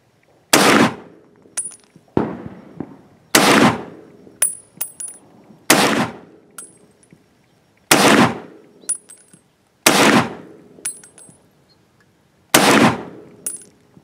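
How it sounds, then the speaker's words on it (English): Seven loud, sharp rifle shots from a .30 caliber U.S. M1 Garand fired one at a time on an outdoor range, spaced roughly one to two seconds apart, each with a short echoing tail and faint metallic clinks between. "first shots with the U.S. rifle 30 caliber M1 Garand"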